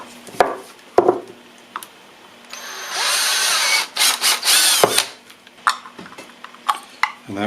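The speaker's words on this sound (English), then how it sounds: "So I'm going to drill a hole right in the middle of the box" A power drill bores a hole in the middle of a box, whirring steadily for about a second and a half and then in a few shorter bursts, with sharp knocks and handling clatter before and after.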